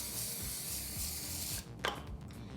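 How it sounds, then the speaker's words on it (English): Pam cooking spray hisses from an aerosol can onto a foil-lined baking sheet in one sustained close burst that cuts off sharply, followed by a brief crinkle of foil. "I'm just going to spray this with some Pam."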